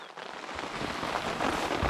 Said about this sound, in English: we were able to do just a little bit of filming in absolute lashing rain